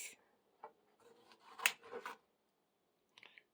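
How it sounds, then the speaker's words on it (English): Food is cut into pieces with a knife on a cutting board, giving a few quiet scraping and rasping strokes, then a pause and some faint taps near the end. "And then I'm going to cut this up into pieces."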